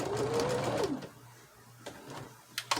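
Home sewing machine run by a foot pedal while piecing jumbled quilt blocks, a steady close whirring hum for about the first second, then fading to a low idle rumble with faint clicks.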